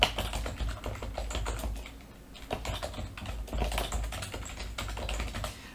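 Typing on a computer keyboard to enter a document name, with a quick, uneven patter of close, quiet keystrokes and short pauses, no voice.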